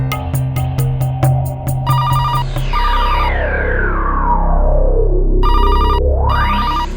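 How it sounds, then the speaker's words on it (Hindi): Mobile phone ringtone for an incoming call, loud and close: a rapid run of bright electronic chime notes, then sweeping synthetic tones that fall and rise, with repeated beeping bursts, sounding alone with no talk. "जोशी का फोन है मेरे फोन पे।"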